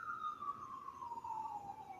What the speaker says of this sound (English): but it is sirens going on